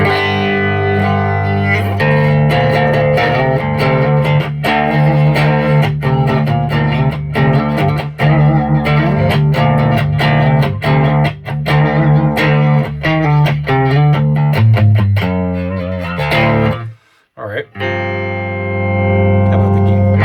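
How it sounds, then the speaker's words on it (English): Electric guitar, an SG Special, played through a DOD Overdrive Preamp 250 pedal with gain down and level up for a bright boost: loud chords and rhythmic strumming, with a brief near-silent gap before playing resumes. "So with the gain down and the level up, it's doing kind of like a bright boost."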